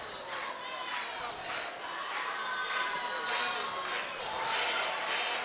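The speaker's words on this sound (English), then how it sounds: "Fans already getting warmed up for the Argentina-Canada match. Singing and clapping along." Basketball fans in an arena sing and clap together before an Argentina-Canada women's Americup match, a loud chanting crowd with rhythmic clapping filling the space throughout.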